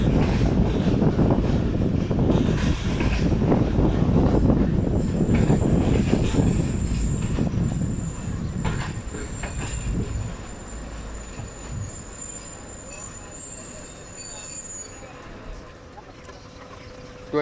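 The Shalimar Express pulls out of Faisalabad railway station with a loud, continuous rumble of wheels and rail clatter that gradually eases, and a thin high wheel squeal rises over it partway through.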